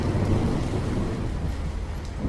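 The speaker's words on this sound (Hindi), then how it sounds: "बारिश उसी तरीके से तेज़ होती रही।" Heavy rain pours down with deep rumbling thunder rolling beneath it, a loud, dense and continuous storm with no voices.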